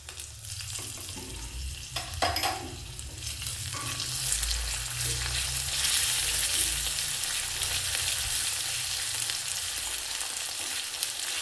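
Black pepper and grated ginger fry in a pan while cooking khara pongal, giving a continuous bright sizzle with occasional stirring scrapes near the start and no voices.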